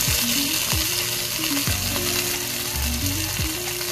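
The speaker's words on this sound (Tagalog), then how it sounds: "Sunod, pwede na natin ilagay dyan yung ating na-fry na chicken." Pieces of fried chicken go into a pan of sizzling chicken adobo with cheese, giving a loud, dense crackle and hiss close by, with a few distinct thuds and scrapes as they land and shift.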